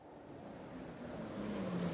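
Bus engine in the visual novel Everlasting Summer, a low steady motor rumble with a faint whining tone that rises gradually in loudness, no voices.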